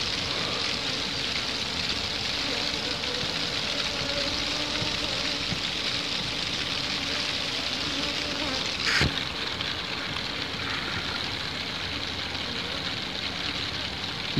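A swarm of honeybees being moved into a cardboard box gives off a steady, dense buzzing that fills the whole stretch, close and even in level, with one brief knock partway through.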